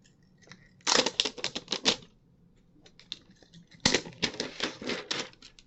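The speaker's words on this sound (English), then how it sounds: "let's go ahead and do this new electronic peel off thing" Protective plastic film is peeled off a new Kinect for Windows v2 sensor, two short close bursts of crackling, rasping plastic with a quiet pause between them.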